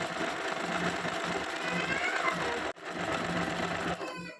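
A sewing machine fitted with a quarter-inch quilting presser foot stitches in a steady close whir, pausing briefly midway before starting again, with no talking over it.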